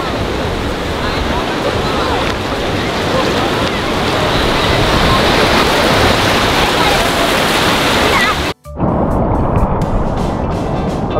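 Ocean surf at Malpe Beach in Udupi, a loud continuous wash of breaking waves with wind, cut by a brief dropout near the end before the surf resumes.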